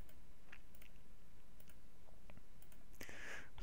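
A computer mouse clicks in short, scattered taps while shape outlines are selected in Adobe Animate, quiet and close over faint background hiss.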